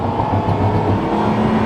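A supercar accelerates under heavy throttle, and its shifts are harsh. The engine gives a loud, close, sustained drone heard from inside the car, with no talk over it.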